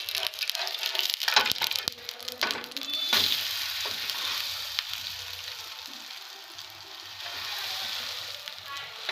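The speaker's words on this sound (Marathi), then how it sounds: "व्यवस्थित तांबूस रंगावर होईपर्यंत आपल्याला भाजून घ्यायचं आहे बघा ब्रेड" Bread pakora shallow-frying in oil over a low gas flame, a steady soft sizzle with brief crackles and stirring clicks, close and moderately quiet, with no talk.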